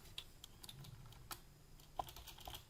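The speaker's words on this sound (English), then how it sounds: "or I can actually type a value in" Keys are pressed on a computer keyboard while entering a value in CAD software, a short run of soft, quiet clicks at an uneven pace with no talking.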